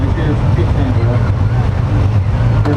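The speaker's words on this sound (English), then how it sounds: "Smooth engine." Steady low drone of a 2019 Kawasaki ZX6R motorcycle engine on the move, blended with wind roar, with a rider speaking over it.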